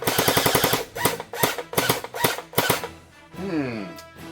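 A Gelbee Stormburst Glow gel blaster fires in rapid full-auto bursts, sharp close cracks in quick runs separated by brief gaps, followed by a short spoken remark at the end.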